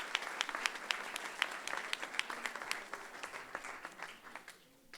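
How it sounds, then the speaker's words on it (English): Audience applause at a senior scam-awareness symposium, a dense burst of many hands clapping that fills the room and then gradually thins and fades toward the end. "could we get a final round of applause for all the speakers who came out today?"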